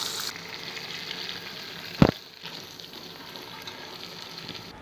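Fish fries in a pan with a steady, close sizzle, broken around the middle by a sharp clatter as a piece is flipped, then the sizzling continues more softly.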